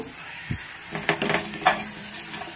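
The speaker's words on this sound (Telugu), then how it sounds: "అదే ప్యాన్లోనే టమాటాలు వేయించుకుంటున్నాను" Tomatoes sizzle in a pan of oil where green chillies were just fried, with soft crackling, a few spoon scrapes and stirring clinks close by in a home kitchen.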